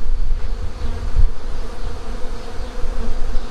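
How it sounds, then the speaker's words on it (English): Honeybees and wasps swarm around freshly harvested honey outdoors, making a dense, continuous, close buzzing with a low hum underneath. No one speaks. "you can see there's bees already all over this"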